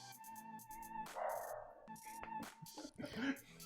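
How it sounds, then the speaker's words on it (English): A dog barks in several short, sharp bursts somewhere in the room, uneven in rhythm, with some faint background noise between barks. "That's very appropriate that Eddie's barking back there"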